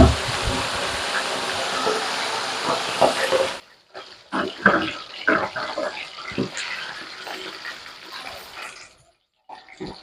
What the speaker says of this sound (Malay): Okey, saya nak goreng ikan dulu. Minyak pun dah panas.